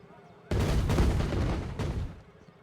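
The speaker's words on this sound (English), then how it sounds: "Why does the sound sometimes just quit after 2 cannon fires?" Cannon fire from a ride effect in the theme-park building game Planet Coaster 2: two heavy, booming blasts in close succession, the first long and rumbling, the second a sharper boom that quickly fades.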